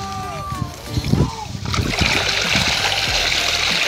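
Fish thrashing and splashing in a net trap lifted from a pond, giving a burst of churning, sloshing water noise that builds and continues, close by, under excited talk at the start.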